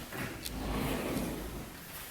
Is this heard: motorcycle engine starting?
no